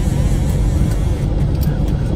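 Road traffic in Cabiao, Nueva Ecija, a constant loud low rumble of engines and tyres with no pause, a few faint higher noises riding on top near the end.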